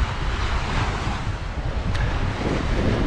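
Headwind blowing against a walker on a coastal route between Comporta and Tróia, a loud continuous rushing roar buffeting the microphone with steady low rumble throughout.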